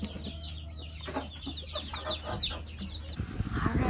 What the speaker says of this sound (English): it looks like Mama Hen stole them all. So you got babies running around